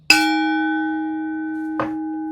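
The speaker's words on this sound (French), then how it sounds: "mon petit gong que parfois je mets, parfois je ne mets pas" A small gong struck twice, the first stroke ringing with a long sustained metallic hum and a softer second strike near the end, close and alone without talk.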